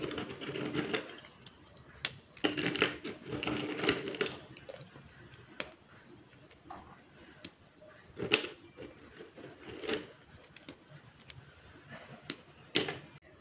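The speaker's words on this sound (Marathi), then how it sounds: "आता ही बिस्किट आहेत ना, आपण हाताने अशी मोडून घ्यायची" Oreo biscuits snapped apart by hand, giving a series of short dry cracks and crunches in irregular bursts with quiet gaps between, close up and with no talking.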